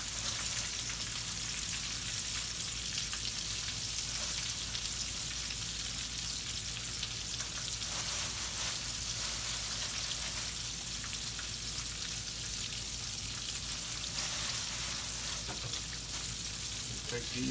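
Catfish fillets frying in hot oil in a pan, a steady dense sizzle and crackle that holds at an even level throughout with no talk over it.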